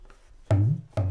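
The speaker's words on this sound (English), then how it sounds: "Baluji plays the tabla with Joseph's hand on top of his" Tabla played with a second person's hand resting on the player's, giving two resonant strikes about half a second apart, each a deep booming stroke whose pitch bends upward and rings out briefly, close and loud.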